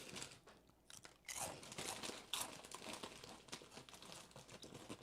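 Vegan Doritos spicy nacho chips are chewed close up, with quiet crunching and crinkling of a chip bag in uneven bursts under low background noise.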